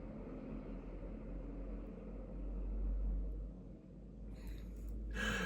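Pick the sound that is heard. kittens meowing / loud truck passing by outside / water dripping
loud truck passing by outside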